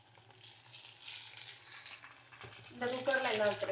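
Okra deep-frying in plenty of oil in an iron pan, a steady broadband sizzle that swells louder and crackles more brightly toward the end, with a faint low hum beneath.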